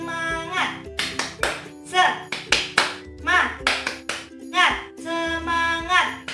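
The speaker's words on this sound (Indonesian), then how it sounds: "sekarang kita tepuk semangat ya" A classroom of elementary pupils stands to perform the tepuk semangat cheer, clapping in a quick, patterned rhythm while children's voices chant along between the bursts of claps.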